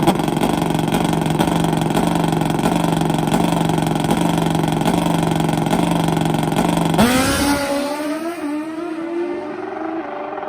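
A 500-horsepower nitrous drag racing motorcycle at a drag strip, its engine droning loud and steady at a high pitch before abruptly cutting off and winding down as the roar fades away.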